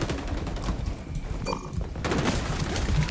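Grenade blasts and gunfire in a shooter video game, a dense, continuous barrage of bursts and booms with a brief lull around the middle, loud throughout with no clear talk.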